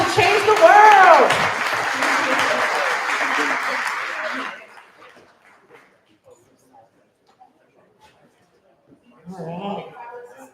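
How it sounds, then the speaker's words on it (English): Audience applause at the New Mexico 2025 Black Business Summit, a dense wash of clapping under a voice for about four seconds, then it dies away into near silence before a nearby voice returns. "Let's give them a round of applause as they go out to change the world."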